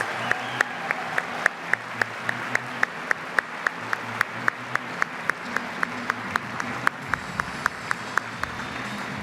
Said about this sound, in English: Please join me in welcoming them and giving them a round of applause.